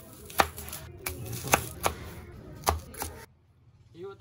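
A knife chops onions on a cutting board in a kitchen while making garlic pepper steak. It gives about nine sharp, close thuds at an uneven pace, then falls quiet, and a faint voice follows.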